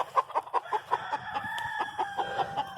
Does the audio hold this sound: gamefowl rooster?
yes